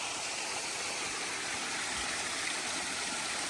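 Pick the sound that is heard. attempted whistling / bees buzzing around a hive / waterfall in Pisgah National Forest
waterfall in Pisgah National Forest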